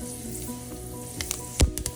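Rosemary and thyme sizzle in hot oil in a pan, a steady crackling fry with a few sharper pops and spits near the end, close and fairly quiet.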